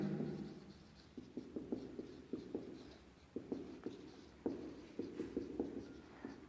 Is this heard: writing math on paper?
yes